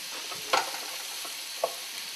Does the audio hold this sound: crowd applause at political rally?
no